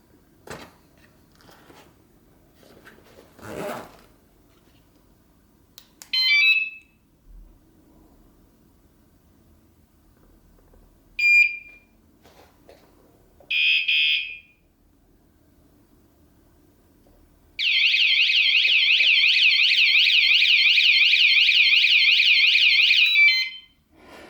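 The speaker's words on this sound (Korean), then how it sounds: "자전거 알람 테스트 세 번째" A bicycle anti-theft alarm, left loose and unfixed, gives three brief beeping chirps spaced apart. A loud, close, steadily warbling siren then runs for about six seconds near the end, with no voices.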